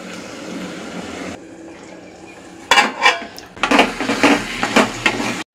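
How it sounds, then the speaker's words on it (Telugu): A metal lid clatters onto a cooking pot of spiced vegetable curry left to simmer, with loud, close clanks and rattles after a softer stretch of stirring and background hiss. "మూత పెట్టి సిమ్లో పెట్టి మగ్గిద్దాం."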